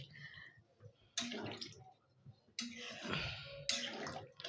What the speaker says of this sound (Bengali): এই পর্যায়ে আমি জল দিয়ে দিচ্ছি পরিমাণ মতো জল দিয়ে দিলাম